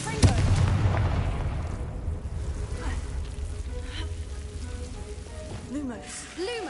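A Confringo fire spell is cast in the video game Hogwarts Legacy, giving a sharp blast at the start followed by a crackling, sizzling burn that fades over several seconds, with a brief voice near the end.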